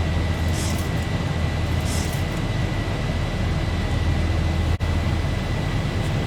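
Boeing 737-800 climbing in the X-Plane 11 flight simulator: a steady, loud, broadband engine roar with constant low rumble and a faint high whine, holding even throughout apart from one brief dropout.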